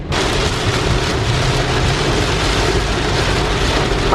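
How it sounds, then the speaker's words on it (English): Heavy rain and rolling thunder during a thunderstorm, heard from inside a vehicle stuck in traffic: a dense, loud, unbroken roar of downpour with low rumbling underneath and no talking. "The rain is getting much more..."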